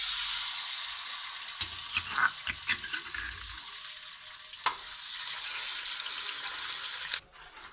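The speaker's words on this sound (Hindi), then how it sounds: "अब हम इसमें पेस्ट डालेंगे जो हमने लहसुन अदरक का बनाया।" Garlic and ginger paste drops into slightly cooled oil in a pan for Delhi mutton nihari, giving a soft hiss and sizzle with a few scattered clinks and stirring knocks.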